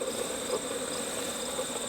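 Honey bees buzz around hives on a fen, a continuous close droning hum without pause.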